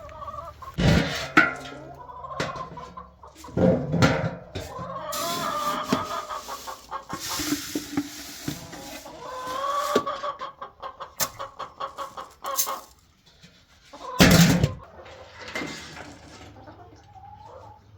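Hens cluck steadily in a backyard chicken tractor on a homestead, with an occasional distant rooster crow, close and continuous through the clip amid bursts of handling noise.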